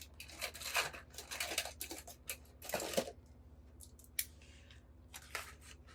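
Scissors snipping a planner divider tab: a run of close, crisp cuts in an irregular rhythm, then a few lighter snips with quiet pauses.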